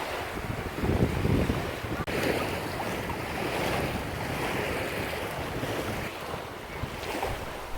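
Waves on the Kaunas Reservoir wash and churn steadily against a houseboat frame, with gusty wind buffeting the microphone throughout.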